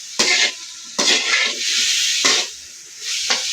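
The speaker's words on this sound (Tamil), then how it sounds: "தக்காளியெல்லாம் போட்டு வதக்கி நல்லா" Tomatoes and prawns sauté in a pan over a wood-fired stove, giving a steady sizzle broken by four sharp stirring scrapes, loud and close with no talk.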